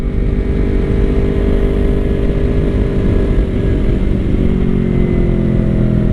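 A Yamaha R3 motorcycle fitted with an aftermarket exhaust runs at high revs, producing a loud, steady, close engine drone that holds evenly from start to finish.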